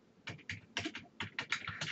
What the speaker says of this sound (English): So I'm going to type in softball.